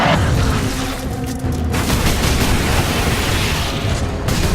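Bomb squigs and grenades exploding in Warhammer 40,000: Space Marine form a dense, continuous roar of overlapping blasts and rumbling booms, loud and sustained, with no voices.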